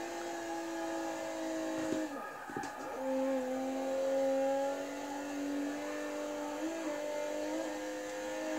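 A Nissan Skyline accelerates at high speed in a racing game, its engine note holding a steady climbing drone with one brief dip and shift mid-run before settling into a sustained whine.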